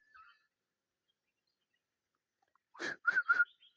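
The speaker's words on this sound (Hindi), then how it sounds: "ये कॉलिंग शुरू होगी वहां पर चिड़ियों की" A few short, bright bird calls ring out in a jungle in quick succession after a long stretch of near silence, with a faint chirp at the very start.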